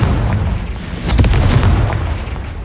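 A Confringo fire spell explodes in the video game Hogwarts Legacy with a loud, booming blast and a crackling burst mid-clip, over a dense low rumble.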